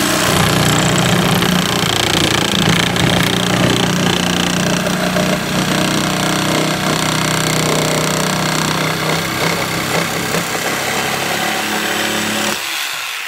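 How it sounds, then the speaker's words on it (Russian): Electric jigsaw cutting pieces off during a furniture restoration, a loud, continuous buzzing rasp that runs for about twelve seconds before stopping abruptly, heard close up with no talk. "Вот сейчас вот у меня лобзик, электролобзик."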